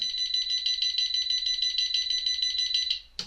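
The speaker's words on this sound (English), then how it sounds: "The snooze period has ended and the alarm has started again." An Arduino Uno-based alarm clock buzzer sounds again after the snooze period, a steady high-pitched electronic beeping tone holding for about three seconds before cutting off, close and loud with no talk.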